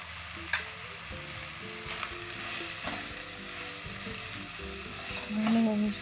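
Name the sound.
stirring chicken with turmeric, chili powder and salt in pan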